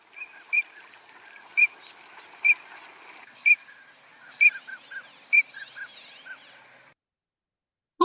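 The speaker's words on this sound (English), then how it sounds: "And peep, peep, peep noises for the green-winged teal." A green-winged teal gives clear, high peep calls, spaced about a second apart. A few softer chatters follow before the calls fade into silence.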